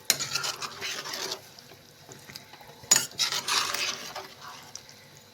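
A spoon scrapes and clatters against a pan while okra fry is mixed, in two busy bursts of stirring separated by a quiet pause with a sharp knock in between, close and fairly loud with no talking.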